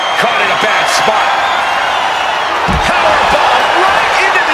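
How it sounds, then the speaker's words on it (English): A wrestler is powerbombed into an ambulance in a WWE 2K25 match between Roman Reigns and Bron Breakker, a heavy slam crunching out over steady, loud crowd roar and game commentary. "Powerbomb right into the ambulance."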